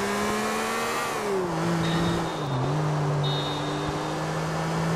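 A car drives in the video game GTA IV with a sustained, loud engine drone that dips and rises in pitch as it slows and speeds up, with faint chimes and no speech.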